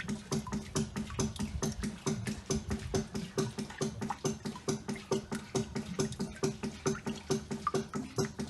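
Water pushed by a ram pump pours out of the end of an aquaponic tube in a steady pulsing rhythm of repeated splashing surges, close and quiet, with no talking.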